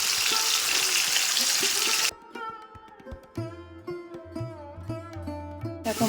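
Carrots fry in a pan for a vegetarian mixed vegetable dish, with a loud, continuous sizzle for about two seconds. The sound then cuts off abruptly, leaving only background music.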